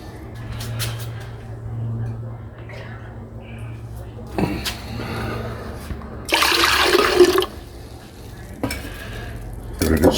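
Gold powder in rinse water is swished around in a beaker during refining, with a burst of sloshing liquid in the middle and a few shorter splashes and clinks around it, while a person talks intermittently.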